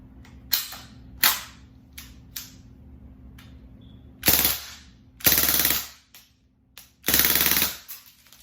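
A BB gun fires at a candle in bursts, switching from single shots to full auto, loud sharp rattling volleys of several seconds each, separated by brief pauses and a few isolated shots.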